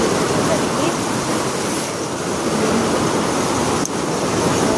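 A mountain stream flows in the rain near Narsinghghat in cold, wet weather, a steady, loud broadband rush of water that fills the whole scene without pause.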